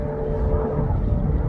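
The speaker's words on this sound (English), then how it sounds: "These airplanes flying pretty low." Large carrier airplanes fly low overhead, a loud continuous engine roar with a low rumble and humming tones, steady and close, with no talking.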